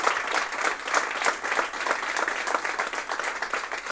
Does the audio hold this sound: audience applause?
yes